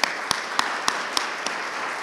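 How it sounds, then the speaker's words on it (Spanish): An audience at a government event for entrepreneurs applauds, a dense wash of clapping with a few sharper individual claps standing out at regular intervals. "otro aplauso para todos ustedes"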